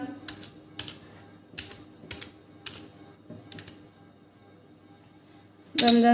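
Computer keyboard typing while names are entered into an Excel spreadsheet: short bursts of close key clicks with pauses between, fairly quiet, ending in a louder clatter.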